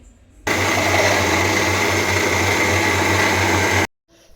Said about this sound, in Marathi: तर हे माझ्या बाजूच्या मैत्रिणीचं मिक्सर आहे तर तिच्या मिक्सरवरती मी साईचं तूप बन